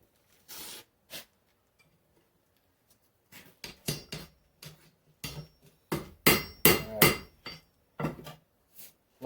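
Hammer blows flattening hot steel on an anvil while forging an axe, sharp ringing strikes in irregular clusters, a few isolated hits then rapid bursts, close and loud.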